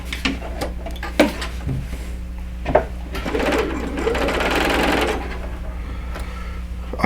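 A sewing machine stitches a seam joining quilt block pieces, a steady mechanical whir that builds midway and holds for a couple of seconds among lighter clicks and handling noises under a faint constant hum.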